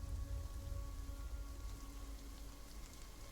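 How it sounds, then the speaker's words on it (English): Light rain falls outside a window at night, a soft, steady patter and hiss, faint and continuous, with no voices. "You awaken to the sound still of the light rain outside."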